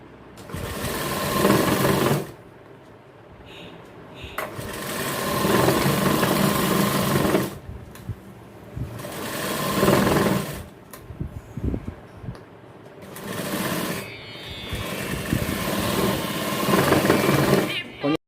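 A sewing machine runs in repeated bursts of a few seconds each, separated by short pauses, while stitching along the edge of a 34-inch men's jacket in a tailoring shop; a voice talks between and over the runs.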